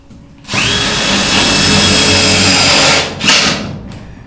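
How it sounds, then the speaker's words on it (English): A power drill drives a self-tapping screw into a metal roof rib, a loud steady whine running about two and a half seconds, then dropping off and briefly revving again before stopping. "see if we can get one of these self-tapping screws to tap"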